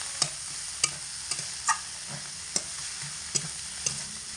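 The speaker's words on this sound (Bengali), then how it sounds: "মশলার মধ্যে খুব ভালো করে মাথাটাকে কষিয়ে নিতে হবে" A hilsa fish head fries in spice paste in a pan, a constant close sizzle broken by regular scraping clacks from a spatula stirring every half second or so.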